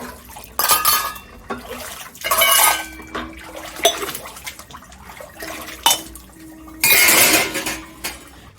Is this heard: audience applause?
no